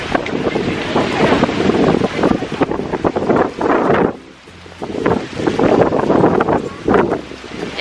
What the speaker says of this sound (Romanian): Este un vânt foarte, foarte puternic.